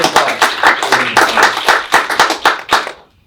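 A small audience claps in sharp, distinct, fairly close hand claps for about three seconds, then stops abruptly.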